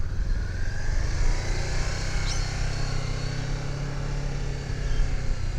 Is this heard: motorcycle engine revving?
yes